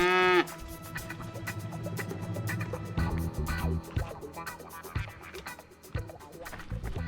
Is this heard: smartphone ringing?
no